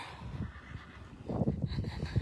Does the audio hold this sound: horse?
yes